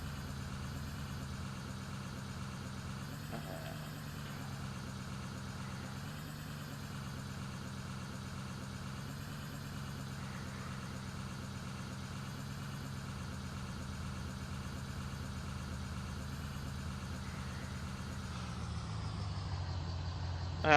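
A truck engine idles in the video game Farming Simulator 19 at a steady, low drone, quiet and unchanging throughout, with no other sounds.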